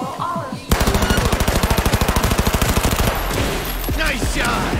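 Automatic gunfire in Cyberpunk 2077 erupts in a loud, rapid burst of evenly spaced shots lasting a couple of seconds, then gives way to scattered game sounds and fading echoes.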